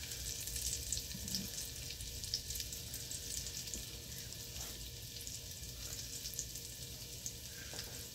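Chopped garlic fries in a hot pan, giving a steady close sizzle with light crackles throughout and no voices.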